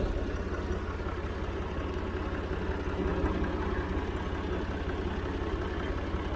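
A Massey Ferguson 50 tractor engine running at a steady idle, a close, loud, evenly throbbing rumble with a constant rhythmic chug throughout and no speech.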